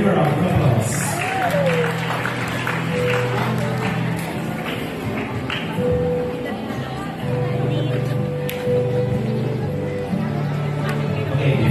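A crowd applauds at a school promenade event while a host's amplified voice talks over and between the clapping, with steady hall ambience and some background music.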